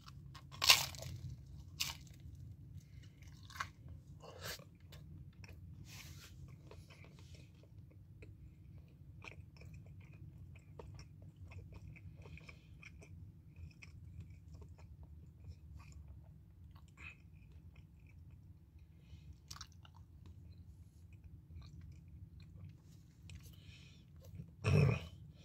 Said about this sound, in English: The crunch of the pizza was very good.